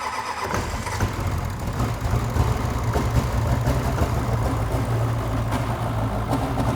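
A diesel-swapped Chevrolet Camaro fires up in its chassis for the first time, a dense, rough low rumble running continuously and loud throughout without any talk.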